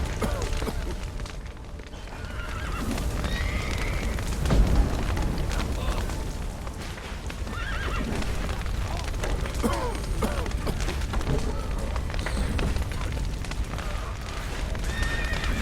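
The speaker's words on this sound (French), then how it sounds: "Les chevaux" Horses neighing and whinnying amid hooves clip-clopping in The Witcher 3 video game, set in a dense, noisy scene with booms and rumbling action throughout, several whinnies rising above the din.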